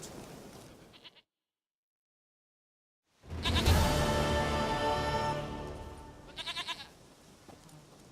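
Goat bleating in The Witcher 3: Wild Hunt, a loud, close, drawn-out bleat after a brief silence, with short quavering calls around it.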